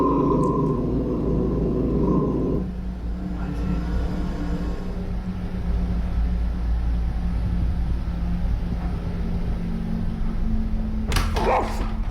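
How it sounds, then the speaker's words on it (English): A dog growls low toward the kitchen for a couple of seconds at the start, then a steady low hum and background rumble continue, with a brief sharp clatter near the end. "dog starts to growl toward the kitchen for no reason"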